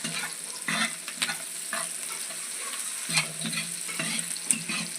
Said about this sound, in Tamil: இன்னும் கொஞ்சம் வணங்கினதுக்கப்புறம் இஞ்சி பூண்டு பேஸ்ட்டு போட்டுக்கிறோம்